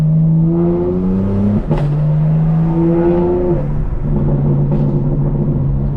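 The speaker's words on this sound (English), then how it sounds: "at 65 degrees the exhaust sounds incredible" A 2024 BMW M4 Competition xDrive exhaust drones loudly from inside the car while driving at night, pitch rising through a gear, a sharp shift crack, then a steady cruising note.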